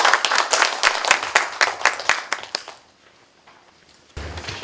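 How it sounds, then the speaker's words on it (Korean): Audience applause greets a professor introduced before a lecture on literature and philosophy, dense clapping that thins out and fades to near silence, then a short burst of sound returns at the end. "큰 환영의 박수 부탁드립니다"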